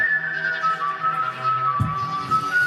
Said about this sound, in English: Irish Whistle.